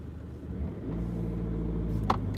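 A car drives along a road, its steady low engine rumble and road noise continuous and close, with a brief sharper noise near the end.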